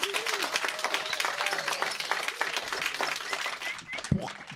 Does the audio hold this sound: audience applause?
yes